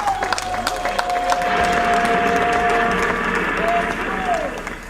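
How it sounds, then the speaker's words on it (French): A crowd at a civil wedding applauds the bride with sustained, loud clapping that swells and stays even, mixed with crowd voices and a long held musical tone. "Applaudissons pour la reine."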